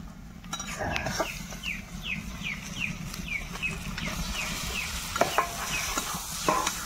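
Washed chicken pieces go into a pan of gravy for chicken kosha, bringing a soft continuous sizzle with scraping stirs and clinks. Birds chirp repeatedly in the background, and a faint voice is heard.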